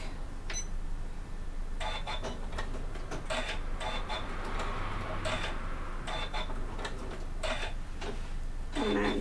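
A domestic sewing machine stitching a fabric bag, running in short bursts of rapid, even needle ticking with pauses between runs as the stitch goes forward and back, close and alone.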